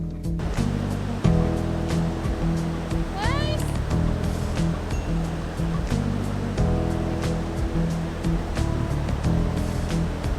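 Ocean waves wash onto the beach at Tanah Lot in Bali, a steady surf roar that runs under people talking and other background sounds nearby.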